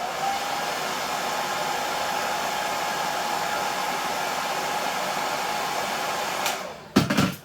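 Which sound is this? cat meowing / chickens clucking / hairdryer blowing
hairdryer blowing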